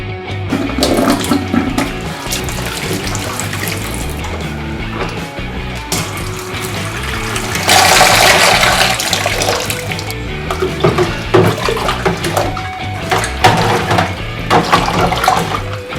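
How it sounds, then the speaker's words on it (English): Tap water runs and splashes continuously as resin model kit parts for an Alien Queen chestburster are rinsed under a faucet, with shifting gurgles and a louder surge midway, close and without talk. "Cleaning the parts, I gave them a final rinse to remove any traces of dishwashing liquid."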